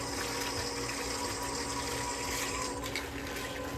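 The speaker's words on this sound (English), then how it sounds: "Put some water in there." Water poured into a drink container for a homemade fruit drink, a steady close gushing and trickling stream that runs continuously throughout with no voices.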